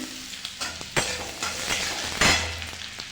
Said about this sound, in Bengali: ভালো করে ভেজে নেব এবার দেবো আদা কুচি